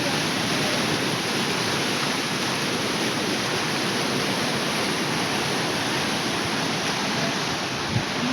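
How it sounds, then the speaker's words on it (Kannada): Water rushing forcefully at the Yadamuri and Balamuri waterfalls, a loud, unbroken roar that fills the whole stretch with no talk. "ನೀರು ತುಂಬ ಫೋರ್ಸಾಗಿ ಹೋಗ್ತಾ ಇದೆ"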